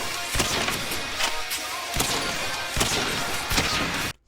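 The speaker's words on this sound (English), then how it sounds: "it sounds sort of like staticky radio-y kind of" Sound effects run through a high-low pass filter, producing a thin, staticky, radio-like tone with repeated sharp hits over a steady hiss, ending abruptly.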